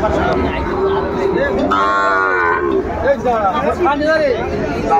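Sahiwal bull calves moo loudly at a cattle market in Dinajpur, Bangladesh, one long drawn-out call in the middle, amid the chatter of a busy crowd nearby.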